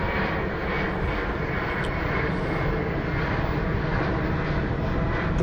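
Antonov AN-178 jet transport with two Ivchenko turbofan engines at the 2016 Berlin airshow, a loud steady broadband engine roar that holds constant throughout with no talk audible.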